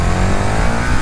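A KTM 1290 Super Duke R motorcycle engine roars loudly and close, pulling hard under acceleration with a thick, continuous rumble throughout the short burst.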